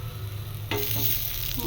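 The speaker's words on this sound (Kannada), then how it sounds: "ಇವಾಗ ಟೊಮ್ಯಾಟೊ ಹಣ್ಣು ಹಾಕಿ ಫ್ರೈ ಮಾಡ್ತೀನಿ" Tomatoes hit a pan holding a teaspoon of oil, and the close steady sizzle jumps into a bright, loud hiss that holds to the end, with no voices.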